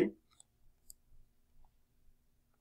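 Mouse clicks on a computer while operating ANSYS APDL structural analysis software: one sharp click at the start, then a few faint taps over a quiet background.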